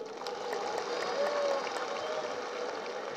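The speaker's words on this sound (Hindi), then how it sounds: "ये ताली मैंने इसलिए बजवाई है" An audience claps together at a slum dwellers' rally held in Talkatora Stadium, producing a dense, steady roar of applause that lasts the whole stretch, with faint crowd murmur mixed in.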